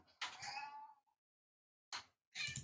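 A pet cat meows in two drawn-out, wavering calls, the first long and the second split into two bursts after a pause of silence, fairly close and loud.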